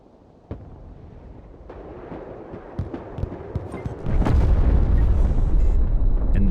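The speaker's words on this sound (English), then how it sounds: "We got a nuke drop by Bio." A nuke drop in the Broken Arrow real-time war game: scattered impacts and pops build up, then a massive, deep explosion erupts and rumbles on loudly to the end.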